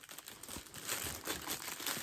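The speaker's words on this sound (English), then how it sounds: "I'll take it out of the wrapping." Close, soft crinkling of plastic wrapping as a packaged beach and bath towel is handled, a quiet continuous rustle lasting about two seconds.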